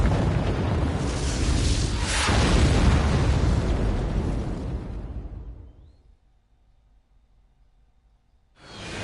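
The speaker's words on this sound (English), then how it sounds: "Watch out for explosions." A long, loud video game explosion rumbles with crackling bursts and a booming peak in a shoot-'em-up game, fading out into near silence before another burst of noise starts abruptly at the end.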